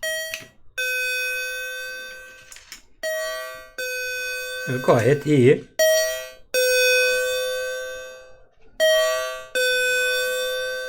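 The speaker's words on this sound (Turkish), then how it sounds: "orijinal ding dong sesini bu hoparlörden alabiliyoruz" An electronic two-tone chime rings repeatedly from a small speaker, bright and loud, with a brief spoken phrase in the middle.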